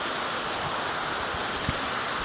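A waterfall at a scenic outdoor spot makes a steady, dense rushing roar of falling water that stays even throughout, with no voices.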